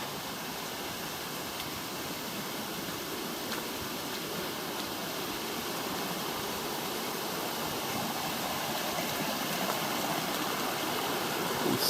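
Water pours steadily off Fairy Bower Falls in a continuous, even rushing roar that holds at the same level throughout, with no voices.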